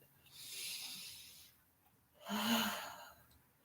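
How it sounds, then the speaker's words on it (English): Two slow, deep breaths during a live yoga class, a long airy inhale then a fuller exhale, close and soft with no talking. "So let's breathe."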